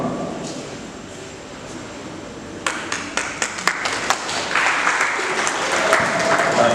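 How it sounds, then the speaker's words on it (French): An audience at the launch of a community cultural centre breaks into applause, starting sparse with a few sharp claps and swelling into steady, dense clapping over faint background chatter. "Applaudissez, applaudissez."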